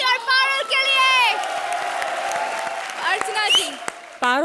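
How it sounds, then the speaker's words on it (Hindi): Studio audience on a Hindi comedy TV show claps and cheers loudly, with whoops and shouted voices over the applause, and raised, excited vocal sounds cutting in at the start and end. "जोरदार तालियां मस्की और पारुल के लिए"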